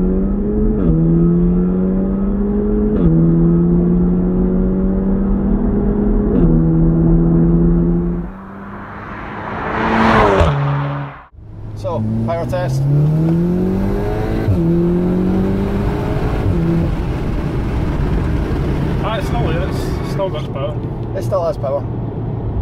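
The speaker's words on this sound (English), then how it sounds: "Acceleration in this thing is relentless." Volkswagen Golf R accelerating hard, loud engine note climbing steadily through several gear changes, then a brief whoosh and a quieter resumed pull, with people talking over it.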